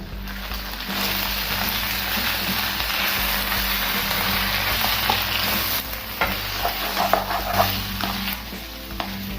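Kung pao chicken is stirred in a pan after a cornflour slurry goes in, with a loud continuous sizzle and hiss and some spatula scrapes and clacks rising over it in the later seconds.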